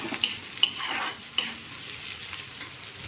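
Onions sizzling in a pan for a curry base, a steady hiss of hot oil with a few sharp scrapes and taps as a utensil stirs them, close and without speech.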